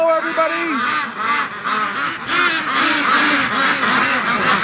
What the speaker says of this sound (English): We got one Muscovy over here,